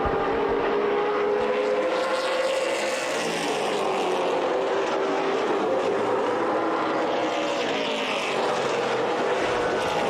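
Late model stock cars racing at speed around an oval track in a feature event, with a continuous loud engine roar that swells and shifts pitch as cars pass, steady throughout.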